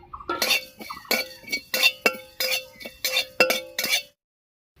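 Whole cumin, coriander and garam masala dry-roast in a pan, stirred in a steady rhythm of about ten scraping, clinking strokes, close and fairly loud, then a short silence at the end.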